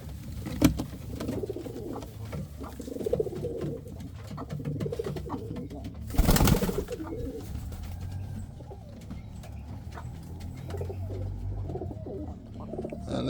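A pair of breeding pigeons in a loft coo softly in repeated low, rolling calls, with a brief rustling burst partway through and a quiet voice now and then.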